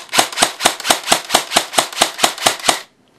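Samson G4 airsoft gun fired on semi-auto, twelve sharp, loud, evenly spaced shots in quick succession, then silence.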